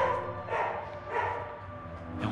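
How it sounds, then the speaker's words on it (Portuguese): A dog barks three times at steady intervals somewhere off at a distance, each bark fairly faint over a constant low hum. "É um cachorro."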